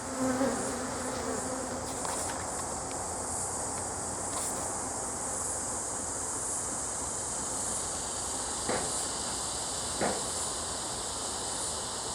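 A steady, dense hum of many honey bees buzzing close by around a hive frame, continuous throughout with a couple of faint clicks.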